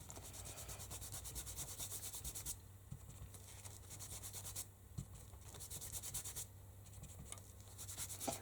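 A fingertip rubs metallic paste onto a journal page in soft, rapid back-and-forth strokes, quiet and close, in bursts separated by short pauses, over a faint low hum.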